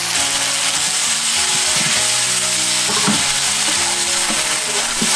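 Tofu and lettuce being stir-fried with a seasoning sauce in a pan, giving a steady loud sizzle with scraping stirring strokes throughout, no voices.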